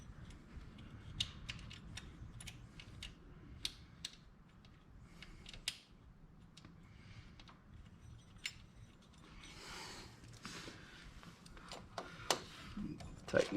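Small bolts being tightened on the starter area of a Can-Am DS90X, heard as quiet intermittent ratcheting clicks and metallic ticks spread across the stretch, close but faint.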